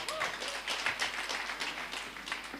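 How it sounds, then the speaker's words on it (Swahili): A church congregation claps for the choir at a Sunday service, a dense, steady patter of many hands close by with no pauses across the whole stretch. "Wapigie makofi mazuri."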